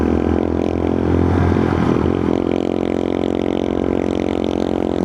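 Motorcycle engine climbs an uphill road, a loud steady drone with a rising, straining rev early on before settling into an even pull, no talking over it.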